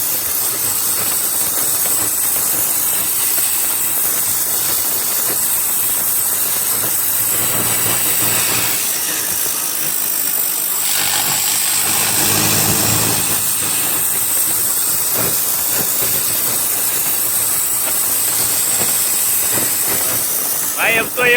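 A Swaraj 855 4x4 turbo tractor engine revs hard and steadily, with a loud, continuous roar and turbo hiss throughout. The note swells around the midpoint, and no one speaks over it.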